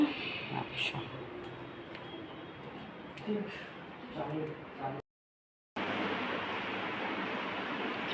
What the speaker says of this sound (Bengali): চুল ধারে বৃষ্টি হচ্ছে